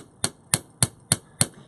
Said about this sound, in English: If I continue to hammer in this one section,